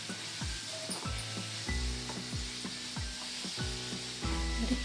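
Food frying in a pan for paneer gravy and poori, a steady close sizzle with repeated scraping strokes of a spatula against the pan.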